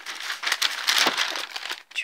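Sheets of tracing paper are crinkled and handled close by, giving a loud, continuous crisp crackling and rustling with uneven bursts.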